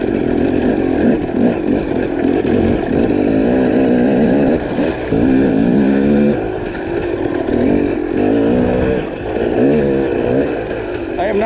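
KTM 300 two-stroke dirt bike engine with a Lectron H-series carburetor, running loud and close through the gears without the clutch, its revs rising and falling in steady buzzing surges.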